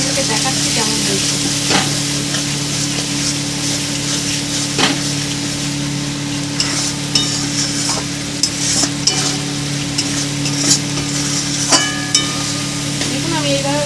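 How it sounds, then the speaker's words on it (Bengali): Spice masala stir-fried in oil for a bhetki fish bone curry, a loud, continuous sizzle with repeated scraping and knocking of a spatula against the pan, close up, with a steady hum underneath. "দেখুন আমি এইভাবে ভালো করে কষিয়ে নেবো"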